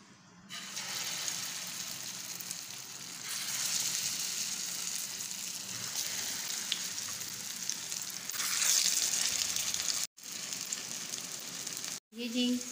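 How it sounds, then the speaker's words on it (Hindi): Potato and gram flour (besan) tikkis shallow-fry in a pan, giving a steady close sizzle that swells and eases. It cuts out briefly twice near the end, and a faint voice follows. "बेसन आलू की टिक्की हमारी रेडी हो चुकी है और अब इसको हम निकाल लेंगे और बाकी की भी हम फ्राई कर लेंगे।"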